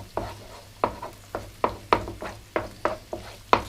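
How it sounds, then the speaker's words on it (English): Egg fried rice with onion stirred in a pan over medium heat, a spatula scraping in an even rhythm of about ten strokes over a soft sizzle, close up and without speech. "So just keep mixing that"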